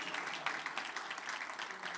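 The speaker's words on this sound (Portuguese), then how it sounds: "vamos aplaudir a Deus pela vida" Steady applause from a large church congregation, a dense wash of clapping that continues evenly throughout, heard from a little distance.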